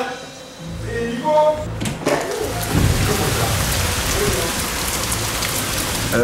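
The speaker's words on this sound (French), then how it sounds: "comme il pleut" Steady rain pours down in a dense, continuous hiss, with brief voices talking near the start before the downpour takes over.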